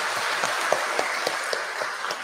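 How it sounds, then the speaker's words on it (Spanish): A church congregation at Mass applauds to honour a parishioner's birthday, a steady wash of many hands with a few sharper claps poking out at a brisk rhythm. "Nuestro aplauso."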